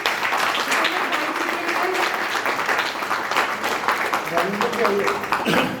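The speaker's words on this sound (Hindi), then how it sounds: "जोरदार तालियां।" An audience at an Indian caregiver training event on healthy ageing breaks into sustained applause, steady and fairly loud, with a voice speaking over the clapping.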